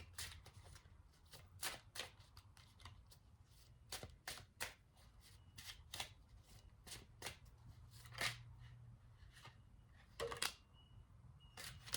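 Tarot cards are shuffled in quick, crisp riffles and taps, close up and quiet, with short pauses between bursts.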